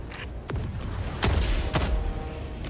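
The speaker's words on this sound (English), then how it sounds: "Firing orbital strike." Orbital strike explosions from the Helldivers 2 video game, a series of heavy booming blasts with deep thuds, several loud impacts in quick succession.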